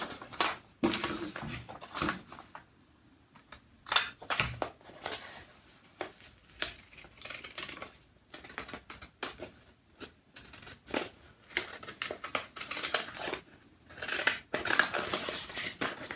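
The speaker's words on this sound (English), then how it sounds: "I'm going to cut it out really sloppily at first just so I can get rid of the extra paper." Scissors cutting sheets of t-shirt transfer paper, close and crisp, with many quick irregular snips and paper rustles in bursts, separated by short quiet pauses.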